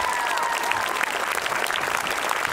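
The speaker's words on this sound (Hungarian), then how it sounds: "Egy tapsot nekik is." An audience at a dance team gala claps steadily and warmly, a dense patter of many hands filling the room without pause.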